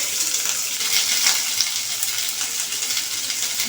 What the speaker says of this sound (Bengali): এবার আলুগুলো একটু ভাজা ভাজা করে দিতে হবে